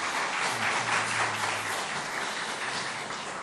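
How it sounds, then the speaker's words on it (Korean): A church congregation applauds together, a soft, sustained wash of clapping heard from across the room that slowly tapers off near the end. "첫째 자녀를 낳는데 한번 박수로 격려해 주시죠."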